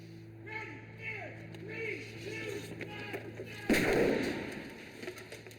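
A sudden loud special-effects explosion on a film set bursts out partway through, a broad roar that lingers and fades, following a stretch of steady background hum with voices.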